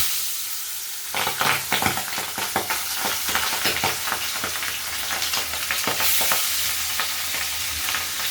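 Pabda fish hits a hot pan for a thin Bengali fish curry with tomato, turmeric and chillies; after a moment of quiet a loud, close sizzle erupts and keeps crackling with stirring.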